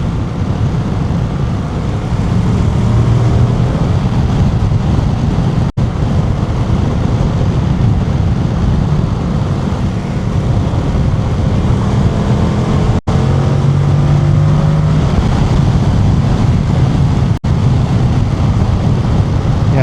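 A 2025 Yamaha Tracer 7 motorcycle engine drones steadily and loudly while riding, with a rising and falling pitch as the revs change around 4,000 to 5,000 RPM and rushing wind underneath.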